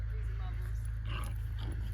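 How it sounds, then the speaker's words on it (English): A dog yips and plays close by during a break at an Aston novice eventing competition, partly under people talking and a steady low hum. "Crazy dog!"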